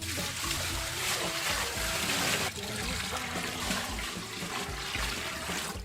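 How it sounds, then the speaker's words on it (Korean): Water runs steadily through a high-capacity shower filter and out of the shower head, a continuous rushing spray close by with no talk over it. "타고 와서 필터를 거쳐서 이렇게 샤워기 쪽으로 해서 나올 겁니다"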